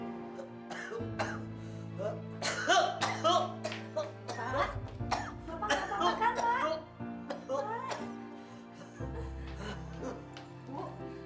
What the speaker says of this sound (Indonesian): Tiba-tiba Bapak batuk-batuk seperti ini.